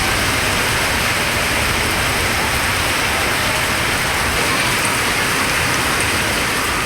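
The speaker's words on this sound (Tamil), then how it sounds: "பலத்த காற்றுடன் கனமழை வெளுத்து வாங்கியது" Heavy rain pours down in strong wind, a dense, steady roar of water that fills the whole stretch without a break and with no voices.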